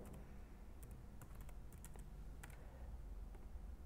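Keystrokes on a computer keyboard entering a username while creating a user account in OpenMediaVault, a few quick bursts of clicks over a steady low background hum.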